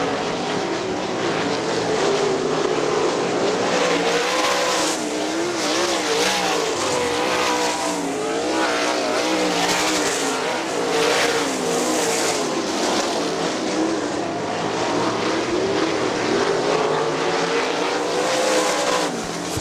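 Sprint cars race around the Kokomo Speedway dirt oval, their engines a loud, continuous roar that swells and fades slightly as the pack circles, with no break throughout.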